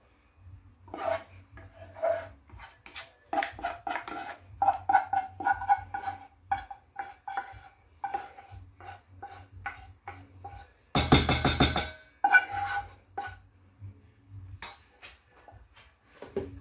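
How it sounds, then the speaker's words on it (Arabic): Béchamel sauce stirred in a pot, a series of close scraping and rasping strokes of a utensil against the pot with light clinks, in an uneven rhythm, broken by a brief louder burst of noise midway, with no voices. "نجي للصوص بيشاميل نتاعنا نخلطها قبل وباش نصبها"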